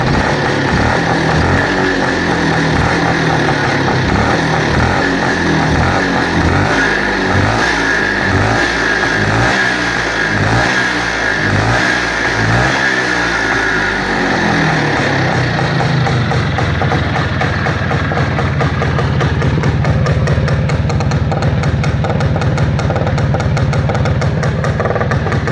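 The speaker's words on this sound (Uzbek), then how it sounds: "Mana motorlar ishlashlari aka" A motorcycle engine, close by, revs in a series of rhythmic throttle blips, then settles back into a steady, loud idle for the remainder.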